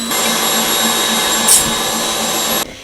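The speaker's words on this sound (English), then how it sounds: "Whisk on high for about 5 minutes until it's really nice and peaky." An electric mixer whisks on high speed, a loud steady motor whine held close and continuous before cutting off abruptly near the end.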